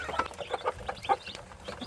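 A mother hen with day-old chicks clucking softly in short, repeated bursts close by, with a low background hum.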